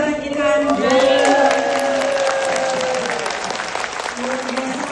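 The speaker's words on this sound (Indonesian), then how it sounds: "Kita berikan tepuk tangan ke belakang para pembicara kita." Applause from a large standing audience at an event, filling the room as steady dense clapping with voices calling out over it throughout.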